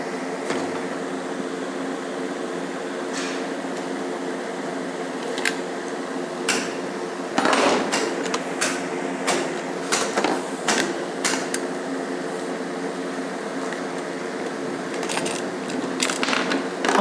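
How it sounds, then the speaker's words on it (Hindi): An engine cooling fan being dismantled with tools, heard as scattered close metallic clicks, taps and a brief clatter over a steady mechanical hum, with no one speaking. "अब इसको डिसमेंटल करते हैं फ़ैन को,"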